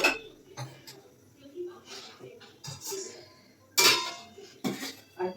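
A pot of rice set on a kitchen stove, with a few distinct metallic clanks and knocks of cookware spread over several seconds, close by, while a person talks throughout.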